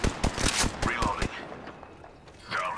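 Gunfire in Apex Legends: a rapid string of sharp, loud shots in the first second, then quieter trailing sounds with a faint shot near the end.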